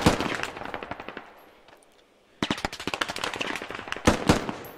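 Machine guns fire in the video game Squad: rapid rattling bursts, then a short lull, then dense, sharp volleys of fire resume and keep going.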